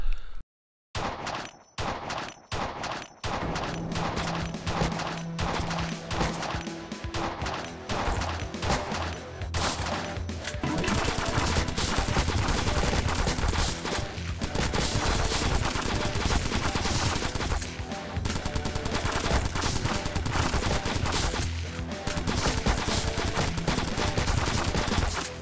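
Constant gunfire from the top-down shooter video game Crimsonland, rapid overlapping shots and bursts that carry on densely and loudly for about 25 seconds, with no talking.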